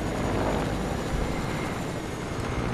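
A helicopter flies in a video game, giving a steady, dense rotor and engine drone that holds at a constant loudness throughout the short stretch with no voices.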